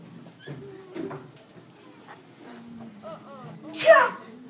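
A short, sharp sneeze bursts out near the end, following quiet background chatter and small sounds in a room.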